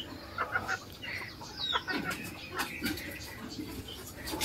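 Malaysian fan-tailed ornamental chickens on a small farm cluck softly and intermittently at moderate distance, with faint background noise.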